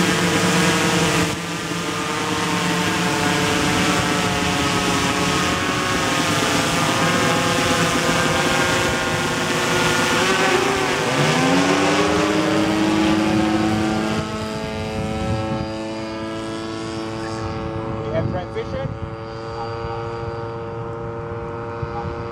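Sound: CanberraUAV Porter OctaQuadPlane drone taking off

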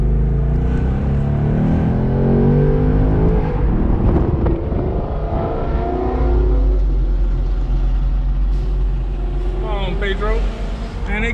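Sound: 2018 Ford Mustang convertible accelerating

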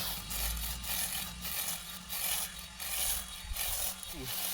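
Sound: LEADER PRO brushless lawn mower running quietly

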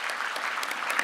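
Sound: audience applause

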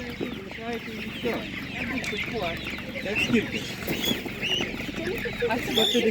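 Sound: chickens clucking

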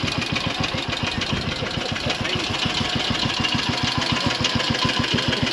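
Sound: Triumph motorcycle engine idling

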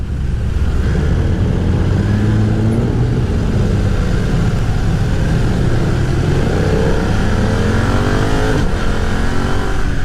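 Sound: BMW F900R motorcycle engine at low revs in rain mode

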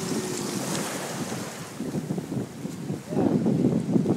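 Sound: ocean waves while a baby swims in the sea

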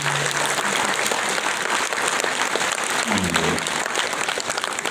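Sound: concert audience applause

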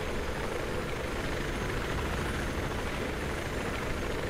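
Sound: helicopter arriving in Battlefield 3 video game

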